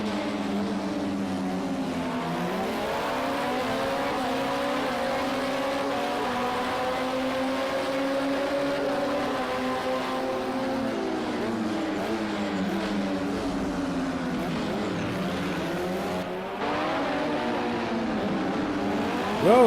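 Race cars, among them a Ferrari GTE and LMP1 prototypes, drone through a racing game set at Long Beach, with engines rising and falling in pitch as cars pass and shift, a steady, moderately loud racing din without talk.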